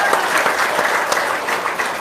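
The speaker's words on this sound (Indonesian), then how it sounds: "Tepuk tangan dong." An audience claps steadily and loudly through a short stretch of applause at a talk show with a comedian and a preacher, dense even clapping with no voices on top.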